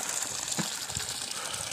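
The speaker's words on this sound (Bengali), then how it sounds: "ওইখানে উপর থেকে পাথরের ফাঁক থেকে গরম জলটা আসছে।" Hot spring water flows from gaps in the rocks at Panamik in Ladakh, a continuous, fairly soft gushing wash with no break across the short stretch.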